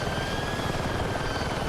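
A military helicopter in a Battlefield game flies with a steady, loud, dense rotor and engine roar, continuous and close, with no voices.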